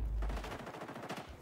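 Rapid automatic gunfire from an XDefiant online shooter match, a dense string of loud close shots and bursts filling the whole moment, with no talking over it.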